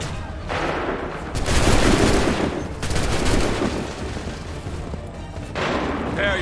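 Musket volleys roar across an Assassin's Creed III battlefield, loud sustained waves of massed gunfire rising and fading in bursts, with shouted orders from soldiers in the mix.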